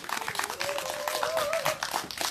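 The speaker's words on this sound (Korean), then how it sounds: "큰 박수 부탁드리겠습니다" Steady crowd clapping and applause fills the space for a couple of seconds, dense and continuous, at an outdoor candlelight rally in Seongju against the THAAD deployment; a tonal whistle-like sound drifts over the clapping.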